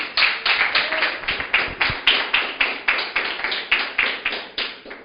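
Rhythmic congregational clapping during a church sermon, a steady regular beat of many hands in unison, loud and even, with no talking over it.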